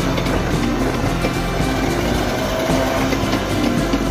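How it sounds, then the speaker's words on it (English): A ship's rescue boat engine runs steadily during a weekly safety test, a continuous low rumble with a broadband mechanical drone and no pauses. "Testing of rescue boat engine."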